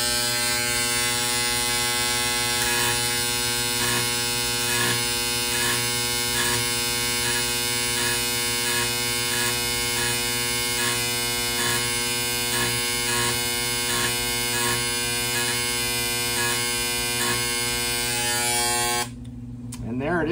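A steady, harsh electric buzz from a carbidizing tool set to 60 volts drones close by for the whole stretch with a faint periodic pulsing, cutting off abruptly near the end.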